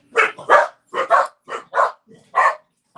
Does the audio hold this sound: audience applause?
no